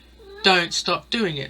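A house cat lets out a few short, close, loud meows in quick succession while a person talks over them.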